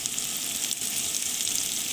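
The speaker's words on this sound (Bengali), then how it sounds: "এটাকে ভালো করে 3-4 মিনিট গ্যাসটাকে লো টু মিডিয়াম করে সুন্দর করে লাল লাল করে ভেজে নেব।" Potato pieces fry in oil in a pan over low to medium flame for mocha ghonto, a dense, even sizzle and crackle heard close up with no voices.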